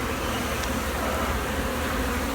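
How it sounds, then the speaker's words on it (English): Honeybees buzz steadily in an opened hive during a split inspection, a dense, continuous drone close by that holds even throughout with no talk over it. "Still a decent number of bees."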